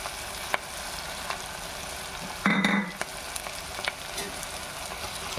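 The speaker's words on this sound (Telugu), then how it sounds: "మంచిగా బాగా టమాటా మీద ఆ స్కిన్ ఊడిపోయేదాకా ఫ్రై చేసుకుందాం." Tomato and curry leaves frying in a pan for Andhra-style spicy chicken fry give a steady close sizzle, with a brief louder burst of crackling partway through and faint utensil taps.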